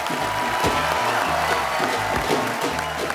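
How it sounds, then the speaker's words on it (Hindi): A studio audience at The Kapil Sharma Show claps steadily and loudly throughout, with music playing underneath. "एक रिश्ता साझेदारी का की पूरी टीम के लिए जोरदार तालियां।"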